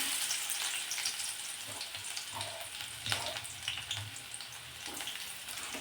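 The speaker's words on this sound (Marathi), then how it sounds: "आता हा कांदा जो आहे तो तेलावरती सोनेरी रंग येईपर्यंत किंवा याचा कच्चेपणा दूर होईपर्यंत परतून घ्यायचा आहे." Finely chopped onion with cumin seeds and garlic pieces fries in hot oil in a pan, giving a soft, steady sizzle with occasional stirring scrapes and clinks, quiet and close, with no one speaking.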